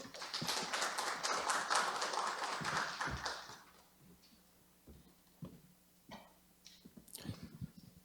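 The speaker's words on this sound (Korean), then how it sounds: "박수 한 번만 부탁드릴게요." Applause from the audience at a Korean workplace-innovation case-sharing forum as the consulting group's CEO is introduced: dense clapping for about three seconds, then thinning to scattered claps before fading.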